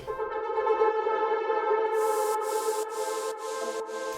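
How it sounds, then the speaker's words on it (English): Swelling atmospheric synth pads from a deep house drop transition hold a rich sustained chord, joined halfway through by a run of rhythmic bright noisy hits pulsing evenly on the beat. "we have some louder swells in the drop when different drum parts come in"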